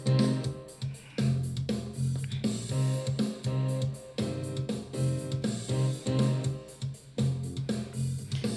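Keys and guitar locked into a shared rhythmic pattern, steady choppy chords repeating at moderate volume with no voices over them.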